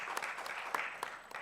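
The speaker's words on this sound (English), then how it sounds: "A round of applause for Professor Kapulo." Applause from a conference audience in a hall, a short burst of clapping that stays fairly faint and steady throughout, with no talk over it.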